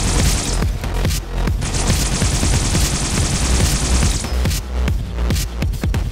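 Needler weapon in Halo Reach firing a sustained rapid burst, a dense loud stream of overlapping shots and booms running almost continuously, with brief gaps near the start and end.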